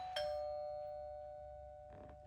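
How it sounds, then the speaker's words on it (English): A doorbell chimes once with a clear ding that rings out and fades in a quiet room, followed by faint rustling. "I hear the doorbell"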